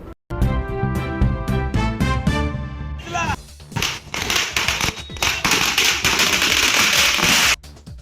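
A short musical sting gives way to a dense, loud string of firecrackers popping and crackling rapidly for several seconds at a community celebration.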